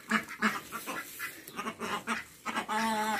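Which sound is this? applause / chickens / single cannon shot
chickens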